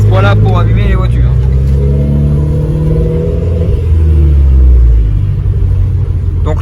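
Renault Clio 4 RS with a stainless steel exhaust line accelerating, a loud close engine rumble with rising revs and growling harmonics, people talking over it inside the car.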